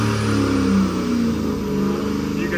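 A 6.0 Powerstroke diesel with an IPR fault idling hot, its engine droning loud and close with a faint wavering pitch as the oil pressure oscillates.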